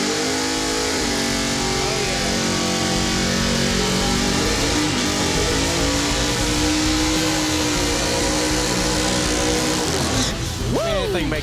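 A drag race car engine of over 500 horsepower roars loud and close, revving and accelerating with rising pitch sweeps, a crowd and voices underneath, ending in a sharp rev change.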